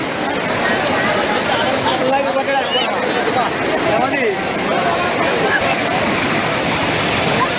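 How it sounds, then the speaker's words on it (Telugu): Rain-filled village pond overflowing through its spillway after three days of heavy rain, a loud roaring rush of water close by, with voices and crowd noise mixed into the steady torrent. "3 వద్దుల సంధి ఈలాం లేకుండా దంచి కొడుతున్న వానలకు చెరువులు అలుగెళ్లుతున్నాయి కదా."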